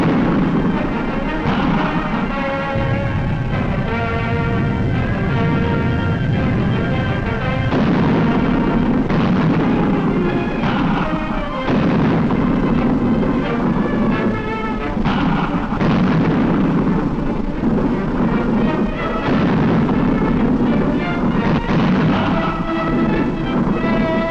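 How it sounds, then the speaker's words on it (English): WWII combat with mortars firing and shells exploding, a dense, continuous din of booms and rumbling blasts layered under a dramatic orchestral score throughout. "mortars go into action to clear out enemy infantry"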